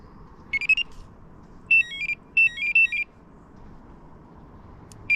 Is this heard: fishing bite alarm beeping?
yes